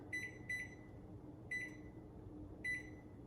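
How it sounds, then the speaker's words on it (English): A kitchen timer beeps in quick high double chirps, repeating four times at steady intervals over a low room hum while a pot roast simmers in a cast iron pot. "So I'm putting my timer on."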